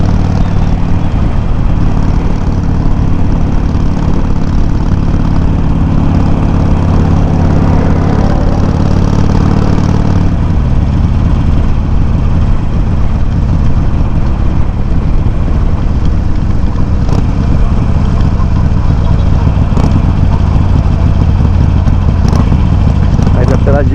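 A Harley-Davidson 883 motorcycle engine idling, picked up by a microphone mounted on the bike, a loud continuous low rumble with steady throb lasting the whole stretch.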